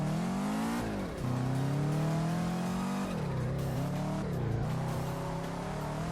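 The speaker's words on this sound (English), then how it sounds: "Oh, that was a pretty cool drift there." Car drifting through mountain curves in the VR racing game Touge Shakai, its engine revving loud and steady with the pitch repeatedly climbing, dropping and climbing again as the car slides.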